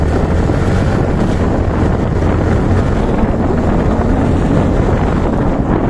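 Strong wind roars across the microphone at a cycling criterium race in Santa Veronica, a loud, unbroken rumbling blast that never lets up for the whole stretch.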